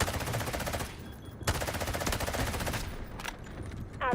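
Rapid automatic gunfire bursts in the Delta Force video game, dense rattling volleys with short gaps, loud and close, fading near the end.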